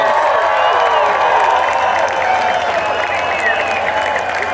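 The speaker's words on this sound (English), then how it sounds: "Let's give her a big round of applause." Festival audience applauding and cheering after a song during a land acknowledgement and prayer, a dense, steady wash of clapping with whoops and vocal cheers layered on top, sustained loudly throughout.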